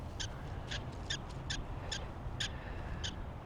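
Small animals give a run of short, sharp alarm chirps, about seven evenly spaced calls over steady outdoor background noise, fairly near and clear, with no talking.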